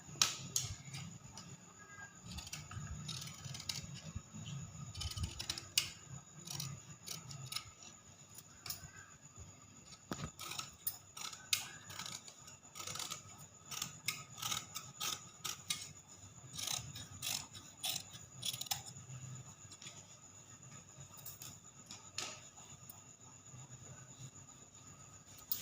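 Scissors cut through fabric for a baby frock, producing repeated close snipping and crunching strokes in irregular bursts, with handling rustles between cuts.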